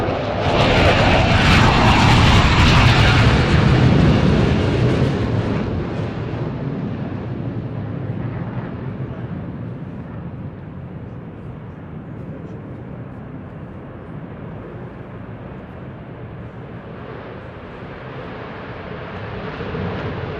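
Military jet passing overhead at a ceremony for an aviation unit flying F-15s, a loud broad roar peaking early then fading into a long distant rumble.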